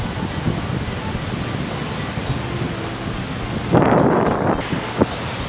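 Strong wind blows across a seaside beach in Varna, Bulgaria, in October, a steady roar of gusts buffeting the microphone with surf beneath, and a louder gust near the end.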